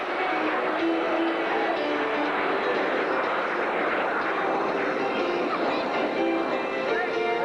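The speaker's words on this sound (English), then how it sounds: "Watch as those 4 aircraft now roll simultaneously in the fill-in roll." Snowbirds jet aircraft in 1990 air show formation, performing a formation roll at a Stockton air show: a steady, broad engine roar that holds loud and continuous throughout, with no voices.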